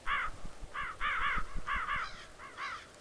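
Several crows caw in short harsh bursts inside a horror video game set among many crows, spaced calls in two- and three-note groups over faint low thumps, fairly close and moderately loud.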